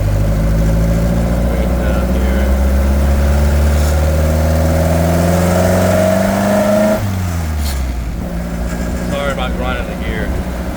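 A 1928 Ford Model A race car with a four-port overhead valve head conversion revs up steadily, its engine pitch climbing then dropping back to a rough idle, loud and close, with a voice speaking briefly near the end.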